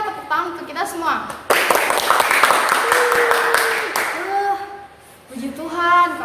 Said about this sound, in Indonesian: Oke, mari kita tepuk tangan untuk kita semua.